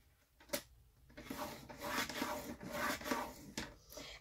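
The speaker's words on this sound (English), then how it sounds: "we are going to score this at 1/2 inch" Paper is scored on a scoring board with a few close, dry rubbing and scraping strokes, some soft and some firmer, along with a light tap at the start. No one speaks.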